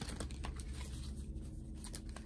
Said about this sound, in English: look, I'm shuffling, and look how the cards are going in here